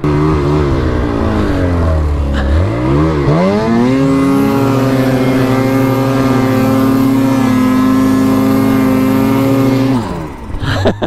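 A snowmobile engine revs hard under throttle while towing up a slope, a loud sustained drone that climbs in pitch and holds steady before cutting off near the end.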